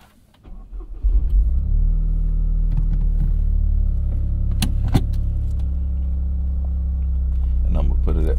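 Toyota GR Corolla engine starting up and settling into a loud, steady low rumble while the car creeps along slowly, with a couple of sharp clicks inside the cabin.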